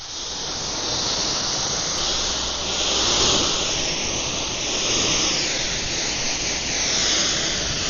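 A water spray rinses a car panel during washing, giving a steady, loud hiss of water that runs continuously and fairly close, with no talking.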